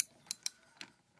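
A Loctite nylon-insert nut comes off a bolt on a cheap Chinese X-Y milling table, giving a few faint, sharp ratcheting clicks in quick succession, quiet and close.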